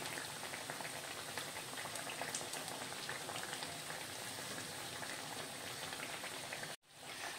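Sabudana vada (tapioca pearl fritters) frying in oil in a pan, a steady close bubbling sizzle with dense crackle, continuous and fairly even until it cuts out abruptly near the end.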